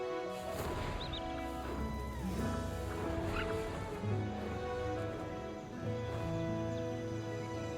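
Bird calls ring out amid the music and effects of a video game trailer, short chirps and warbles over a dense, steady soundtrack.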